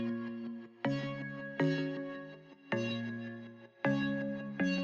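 Bright hyperpop pluck synth run through a phaser and two EQs, playing a repeating chord pattern of sharp attacks with long decaying tails, loud and alone with no talking.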